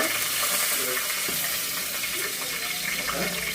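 Bay leaf, curry leaves and asafoetida fry in hot oil as a base for a drumstick and potato curry, making a continuous, moderately loud sizzle with faint bubbling crackles throughout.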